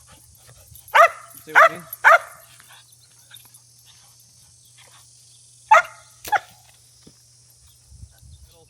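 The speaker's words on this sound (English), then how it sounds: "She'll bark at me when I shoot my bow." A dog barks in two bursts outdoors near an archery range, three sharp barks followed by two more a few seconds later, fairly close, with a brief spoken remark and a low steady hum underneath.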